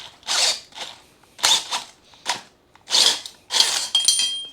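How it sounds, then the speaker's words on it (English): Bursts of a hand reamer or drill enlarging bolt holes to 5/8 inch on a lowrider mini truck build, with about six separate grinding, ratcheting passes, each short and loud, broken by brief pauses. "These are not drilled to 5/8, so I need to make them bigger. I'm just going to ream them out."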